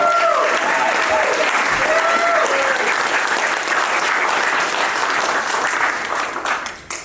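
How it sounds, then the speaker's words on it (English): An audience at a show claps loudly in a full, sustained burst that holds steady and then thins out near the end, with a faint voice briefly audible underneath. "So please give a"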